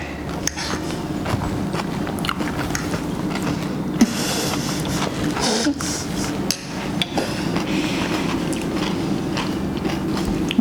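Someone eats a 1960s-style jello mold studded with crunchy celery. Close, steady wet chewing and crisp crunching run throughout, with faint bits of voice in between.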